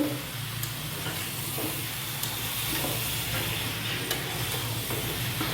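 Spices frying with bottle gourd in a pan for a Bengali fish curry, a steady close hiss and sizzle with faint stirring scrapes running throughout, no talking.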